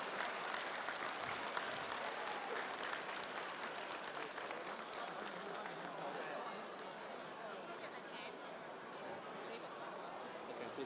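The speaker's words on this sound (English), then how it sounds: "a big round of applause again for immediate past Governor Eric Chin" A large audience at a Rotary district installation gives a long round of applause, dense and steady throughout, with crowd chatter and occasional cheers mixed in.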